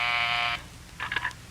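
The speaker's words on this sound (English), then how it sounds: "That's the door buzzer" A loud, steady electric buzz for about half a second, then stops; a few brief faint sounds follow in the quiet afterward.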